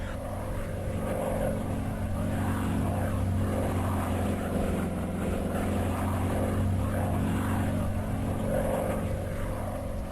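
A propeller aircraft drones steadily on landing approach, a continuous, moderately loud engine hum with slowly pulsing tones and no voices.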